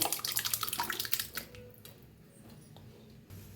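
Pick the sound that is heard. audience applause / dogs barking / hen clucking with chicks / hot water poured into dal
hot water poured into dal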